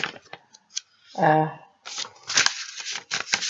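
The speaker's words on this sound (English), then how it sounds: "And here I go again, shuffling pages." Paper pages rustle and flap as they are shuffled, in between stretches of a person speaking.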